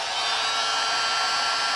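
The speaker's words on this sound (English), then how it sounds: "I happen to have a heat gun, so I'm just going to use it, and I'll set it on low." A heat gun set on low blows a steady, even airy whoosh, constant and close throughout with no other sounds.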